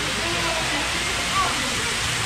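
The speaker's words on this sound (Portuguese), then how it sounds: "Aí aqui tem uma cascata, que legal." Waterfall cascade at a water park, pouring as a steady, loud, broadband rush that fills the whole moment without pause.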